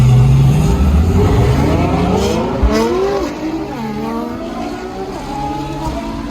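Ferrari F12 TDF V12 accelerating hard through traffic, loud high revving engine with rising gear pulls, a brief shift, then the note settling lower as it cruises on, no talk.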